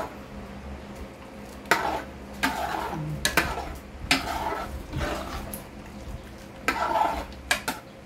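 Lomi noodles with carrots and pepper are stirred in a pot, giving repeated scraping, clinking strokes in uneven bursts over a soft cooking hiss, with no talking.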